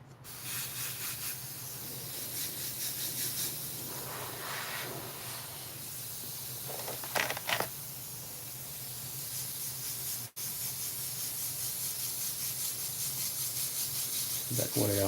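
Paint misted from an airbrush onto a Wolverine miniature, a steady close hiss running almost the whole time, briefly cutting out and resuming, with a few stronger bursts partway through.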